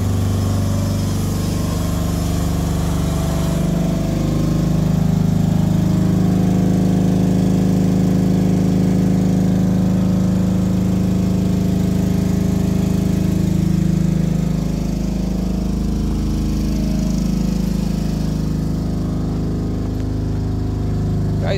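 Steady drone of a home generator running nonstop at a constant pitch, close and loud, with no talk over it.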